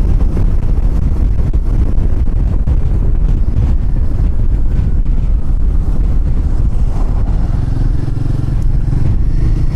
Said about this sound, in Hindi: तेज हवा चल रही है यहाँ पर,